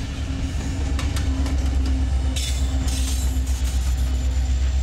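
Two Union Pacific freight trains, each led by four locomotives, meet at Tower 26: a steady, close, loud rumble of rolling cars and wheels with a low engine drone and intermittent metallic clicks and squeals.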